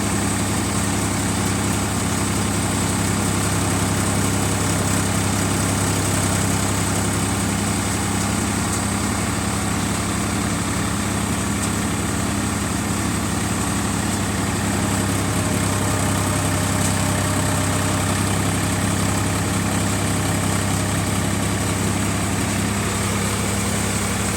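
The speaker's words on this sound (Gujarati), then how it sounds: "સવારની અંદર પણ તમે જુઓ આ રીતનું ટ્રેક્ટર ચાલે છે આપણું" A diesel tractor engine runs steadily at a low, rumbling idle, close and continuous for the whole stretch, with a faint mechanical vibration.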